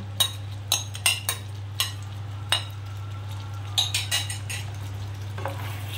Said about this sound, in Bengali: দেখুন ফুটে গেছে, আমি সমস্ত পনিরগুলো এর মধ্যে দিয়ে দিচ্ছি